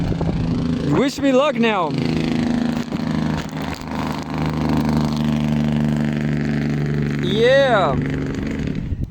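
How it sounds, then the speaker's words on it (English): A noisy truck rumbles past up close as a loud, steady engine drone that stays under two stretches of speech from start to finish. "Go away, noisy truck."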